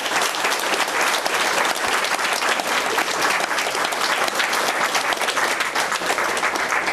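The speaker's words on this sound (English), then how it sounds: "How about a round of applause for three great people?" An audience at a Democratic candidates forum in a cafe claps steadily, a dense, sustained round of applause filling the room at full volume without a break.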